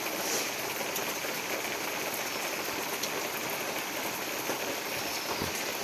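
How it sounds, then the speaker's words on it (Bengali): Steady heavy morning rain hisses evenly across the whole stretch as a continuous broadband wash, with no voices and only faint scattered drops standing out. "আর বৃষ্টিটা কিন্তু সেই পরিমাণেই হচ্ছে।"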